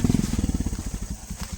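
A motorcycle engine putters in a fast, even rhythm close by, a short burst of throbbing exhaust pulses that slightly fades toward the end.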